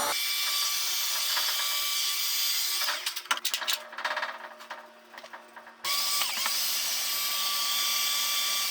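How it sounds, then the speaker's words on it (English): A heat gun blows steadily on fresh paint on a shop-built welder and plasma cutter rack. A loud, even whoosh fills the first three seconds, drops out for a few seconds among clicks and light rattles, then returns just as loud. "just throw a heat gun on it and it'll dry super quick"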